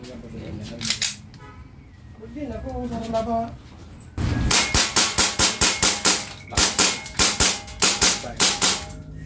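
EMG Salient Arms airsoft gun test fired, a rapid string of about a dozen sharp, loud clacking shots in quick uneven succession, preceded by people talking.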